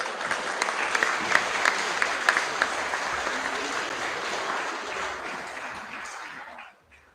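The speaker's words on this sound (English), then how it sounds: "A big round of applause for them, please" An audience applauds students at a Year 11 prize giving assembly, a steady wash of many hands clapping that holds for several seconds, then fades out near the end.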